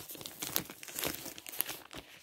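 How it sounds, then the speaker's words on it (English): A zipper bag package, a Ladybug and Co. parcel, is unzipped up close, giving a run of crinkly plastic rustles and short scratchy pulls over about two seconds, fairly quiet and with no talk. "It's one of those zipper bags. So I'm going to undo the zipper."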